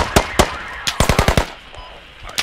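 Rapid gunfire bursts in the military shooter game Squad, a couple of single shots followed by a quick string of five or six loud close reports, then a brief lull and another pair of shots.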